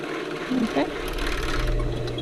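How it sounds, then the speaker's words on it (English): An overlock sewing machine whirs steadily, loud and close, while hemming a tank top, a continuous mechanical hum with a brief pitch wobble partway through. "Okay, so we've just overlocked the hem"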